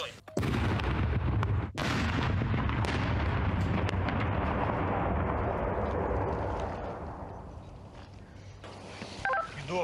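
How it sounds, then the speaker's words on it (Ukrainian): A single loud blast from a controlled electrical detonation of an explosive object booms out right at the start, followed by a long rumbling roar that slowly fades over several seconds, with a brief sharp crack partway through. "Знищення вибухонебезпечного предмету буде проводитися контрольованим підривом, а саме електричним способом."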